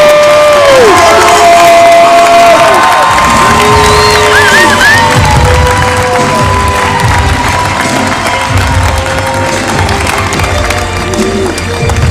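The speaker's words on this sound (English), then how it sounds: "Please give a big Mr.O cheer to Plant and Choice Middle School." Audience at an education banquet cheers loudly for middle school kids, with whoops, shouts and clapping over a steady roar, while a voice on a microphone speaks over the crowd.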